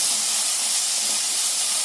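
Onion, green chilli and curry leaves with turmeric and salt sautéing for masala bonda filling, a steady, dense sizzling hiss that runs evenly and loud without a break.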